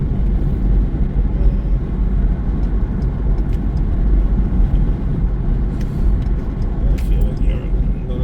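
A car driving on roads between Amersfoort, Soest and Baarn in the Netherlands, heard from inside as a steady, loud low rumble of engine and tyre noise with a few faint clicks, while people talk.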